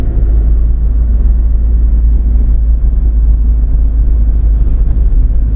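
A 2014 Mahindra Scorpio SUV's engine while driving, a steady low rumble with a strong bass drone heard from inside the cabin, loud and continuous with no talking.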